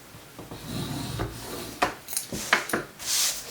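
Paper scored with a tool against a bone folder setup at 5 and 10 inches, giving soft rubbing and scraping strokes with a few sharper rasping drags, close and alone.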